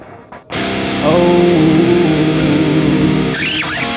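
A sung voice passes through the air reverb effect on a Headrush Prime effects unit, coming out buzzy and distorted with a steady drone behind it, loud and close.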